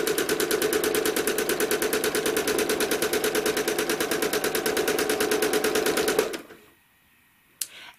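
A sewing machine quilts snowflake stitches, chattering in a fast, even, loud rhythm for about six seconds. It then stops abruptly, leaving near silence and one small click.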